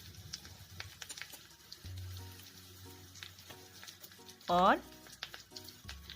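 Garlic and carom seeds fry in a pan with a soft, steady sizzle, close by, broken by light stirring clicks and a brief louder hiss; a voice speaks briefly.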